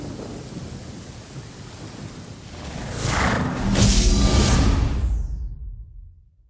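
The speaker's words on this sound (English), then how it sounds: "No matter how hard you try, you can't suppress this kind of storm." Thunder rolls through a rainy storm in Genshin Impact, a steady hiss of rain building into a loud, close rumbling crack that swells and then fades out.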